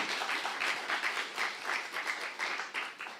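Steady congregational clapping during a Saturday church worship service, a dense, even wash of applause in waves, moderately distant and without talk.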